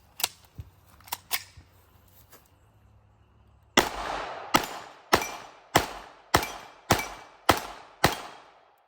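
Oracle Arms 2311 pistol, a non-compensated handgun, fired outdoors: a few scattered shots early, then a steady string of about nine loud, evenly spaced cracks, each with a short decaying echo.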